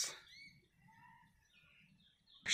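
A few soft bird calls near a village pond, scattered thin chirps over a quiet, near-silent background, framed by brief rustles at the start and end.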